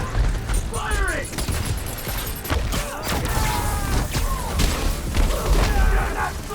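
Rapid gunfire in the game Spider-Man: Miles Morales, bursts of sharp cracks and impacts mixed with thuds and mechanical clatter during a loud, busy fight.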